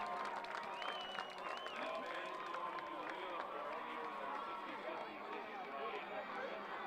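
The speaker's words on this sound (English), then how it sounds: "the crowd from Marian not going away. They're still standing up, cheering their club on as they enter the field" Crowd cheering and shouting in the stands at a high school powderpuff football game between Regina and Marian, a steady, dense roar with scattered whistles and clapping throughout.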